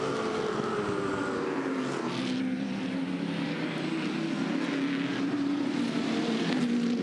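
A Touring Car Masters race car accelerates hard around the Bathurst circuit, its engine a loud continuous roar with slowly shifting pitch as it pulls through the gears, close and alone without voices.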